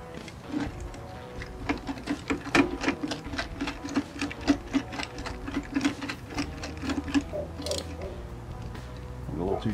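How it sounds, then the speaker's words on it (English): A 10 millimeter socket ratcheted onto a bolt of a cheap three-head candy machine, producing a fast, steady run of close mechanical clicks that continues for several seconds under a faint voice. "I can drop my socket here, because this is just a 10 millimeter socket."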